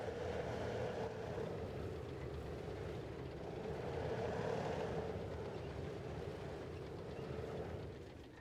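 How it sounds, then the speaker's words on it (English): Low, steady rumbling drone of a tank engine in a tank combat video game, continuous and moderately loud with a faint swell midway, alone without talk. "I think that was just my engine."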